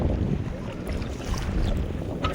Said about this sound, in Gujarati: આજે પવન પણ વધારે છે